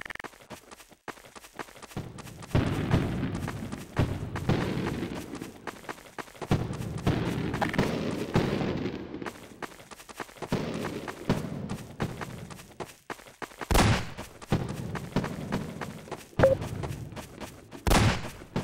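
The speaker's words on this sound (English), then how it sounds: "I'll stop setting off fireworks." Fireworks going off on a Fourth of July build server in a video game, a long run of thumping, booming bursts in irregular clusters with short gaps, plus a few sharp loud cracks near the end.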